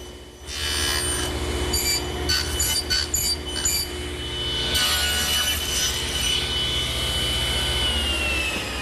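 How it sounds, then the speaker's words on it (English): Table saw fitted with a tenon cutter cutting the cheeks of a mesquite tenon, a loud steady motor whine with rough grinding bursts as the blade bites, continuous and close with no talk. "Once again, I'm using my tenon cutter. I'm going to make the cheek cut on the outside face first"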